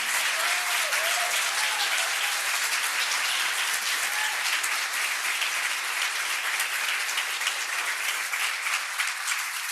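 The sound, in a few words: audience applause for graduates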